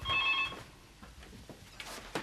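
A telephone bell rings in a short, bright burst at night, then stops, leaving soft room noise and a few light knocks.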